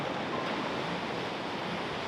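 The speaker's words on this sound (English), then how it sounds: "All you hear is the sounds of like the waves crashing." Ocean surf breaking steadily along the shore at Bodega Bay, a continuous broadband wash with a soft rising and falling roar, no voices over it.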